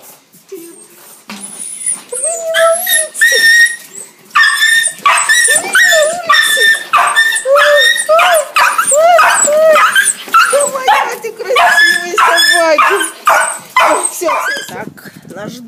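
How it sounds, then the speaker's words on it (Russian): Several dogs bark, yip and whine excitedly as they greet their owner arriving at a garden gate, a loud, continuous, overlapping chorus close by. "сниму, как будут встречать меня мои собаки"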